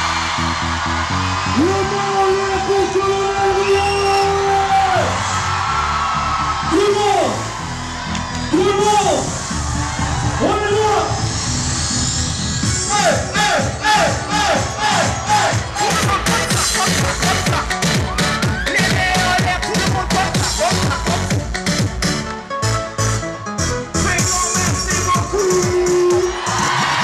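Large outdoor crowd at a concert event in Normandy yelling, whooping and cheering loudly, with rising shouts and whistles, continuous and close, mixed with bursts of clapping.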